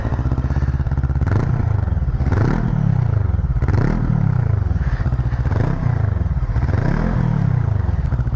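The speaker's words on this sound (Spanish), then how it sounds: "La moto suena muy bien" A Brixton Crossfire 500 motorcycle engine runs close by with a deep, husky note, revved in repeated swells about once a second over a constant rumble.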